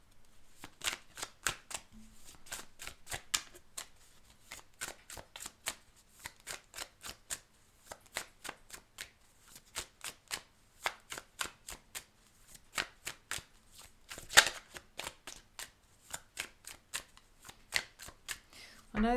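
A large deck made of two card decks combined is shuffled over and over, giving a long run of crisp, close riffling bursts in a steady rhythm with short pauses between them.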